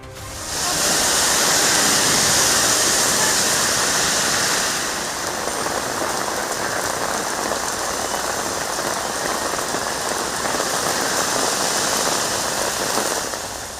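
Heavy rain pours steadily over the East Coast Road and Old Mahabalipuram Road area near Chennai, a loud, dense, continuous hiss that swells briefly near the start, then holds a constant roar with no voices.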